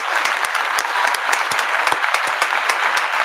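A crowd claps steadily and loudly throughout, with dense, continuous applause and a few sharper individual claps standing out near the front.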